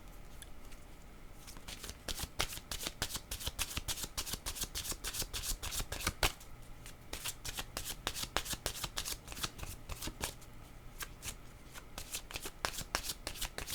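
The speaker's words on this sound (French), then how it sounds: "Je vais demander une autre carte." Tarot-style cards being shuffled in the hands, a dense run of quick papery riffling snaps repeated steadily and close up, with no talking.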